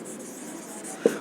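Pen writing out a maths equation on paper or board, a soft continuous scratchy stroke lasting about a second, faint and close, with no talk.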